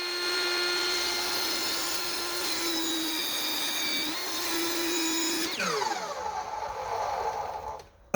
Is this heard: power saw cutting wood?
yes